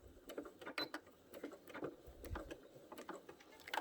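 Sewing machine back stitching at the end of a quilt seam, a faint quick run of light mechanical ticks and clatter, close and with no talk.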